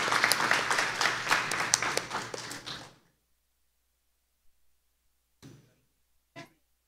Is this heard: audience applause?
yes